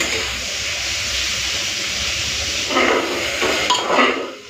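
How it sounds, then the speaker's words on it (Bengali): Bitter gourd frying in a pan gives a steady, fairly loud hissing sizzle close by, with a few brief surges of stirring or spattering toward the end. "এরপরে উচ্ছেটাকে লাল করে ভেজে নেব"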